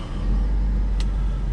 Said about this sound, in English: So got the Miata running